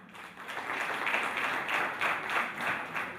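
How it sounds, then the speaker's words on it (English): Audience applause for a gentleman at a university capital-market challenge launch, a moderate wash of clapping rising and falling in gentle swells. "a hand of applause to that gentleman"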